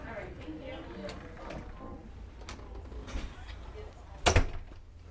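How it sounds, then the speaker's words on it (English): Aboard the cruise ship Scarlet Lady, a wristband unlocks the door to the Central Sea Terrace, giving a short sharp click and clunk near the end over steady background murmur. "use our nice little wristband here and open up the door"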